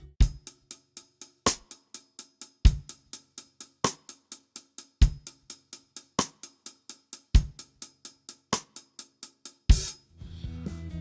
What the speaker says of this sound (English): The 10/8 groove, I'm calling it, with 5 in the right hand, is gonna sound like this.